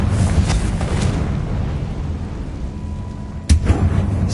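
A Confringo fire spell blasts in Hogwarts Legacy, a single sharp booming burst late in the moment over a low rumbling ambience, with fainter thuds earlier.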